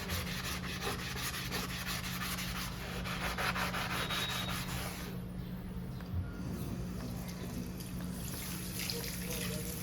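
Rough scrubbing of a cast iron dosa pan, a steady close gritty rubbing with rhythmic back-and-forth strokes and some watery sounds, fairly quiet throughout.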